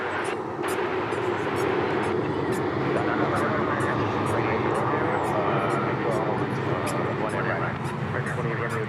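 Continuous loud roar of an airliner at DFW Airport, steady broadband engine noise filling the whole stretch with faint voices underneath.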